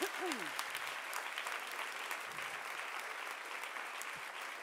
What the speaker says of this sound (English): I know, give him a big clap.